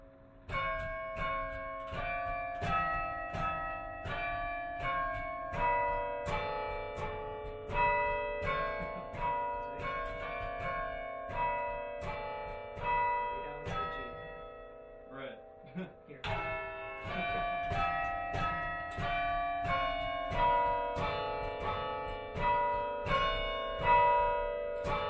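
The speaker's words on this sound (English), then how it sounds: "This is the Carillonneur practice keyboard. So hammers strike vertical tone bars" A carillon practice keyboard rings out as hammers strike vertical tone bars, producing a steady run of bright, bell-like struck notes with sustained overlapping tones, briefly pausing midway before the melody resumes.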